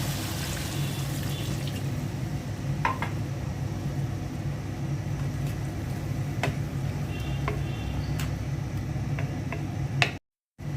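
Water pours steadily into a pot of bottle gourd curry with a hilsa fish head on the stove, a continuous close splashing gush that breaks off briefly near the end.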